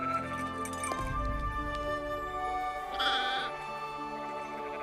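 A goat bleats in the animated film The Prince of Egypt, one wavering cry heard over a continuous musical score with sustained tones.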